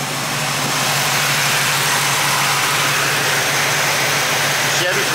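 A 1968 Chevrolet Camaro restomod fitted with a new Chevy Performance engine idles steadily nearby, a constant low rumble with a brief sharper blip near the end.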